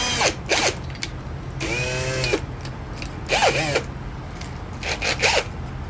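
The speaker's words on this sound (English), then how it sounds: "put a little bit of this tapping fluid on here, and run it in, and we'll be good to go to tap it" A tap cuts threads into aluminum lubricated with tapping fluid, driven in several short whirring bursts whose pitch swoops up and down, close and fairly loud, with quiet gaps between them.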